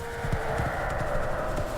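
Horse hooves clip-clop in a steady, fairly quiet rhythm under a constant background hum, with no other prominent sounds.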